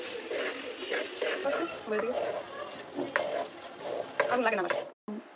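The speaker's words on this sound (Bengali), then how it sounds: "আব্বু বাসায় এসেই ভুনা খিচুড়ি রান্না করে নিচ্ছে" Bhuna khichuri is stirred in a pot at home, with a spoon scraping and clattering in repeated strokes over a low sizzle, close up, while people talk throughout.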